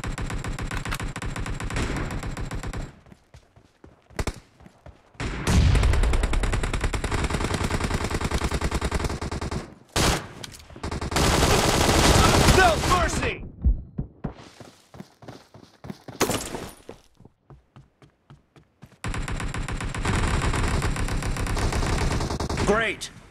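Gunfire in a PUBG Mobile match, with long loud bursts of rapid automatic shots broken by short pauses and single cracks, close and dense, under game voices.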